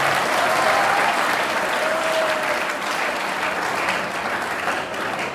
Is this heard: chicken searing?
no